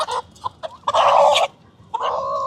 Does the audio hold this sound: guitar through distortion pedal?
no